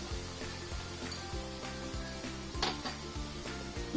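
Black pepper powder and other ingredients sauté in a pan, a steady soft sizzle with occasional stirring scrapes, running beneath a prominent rhythmic music track.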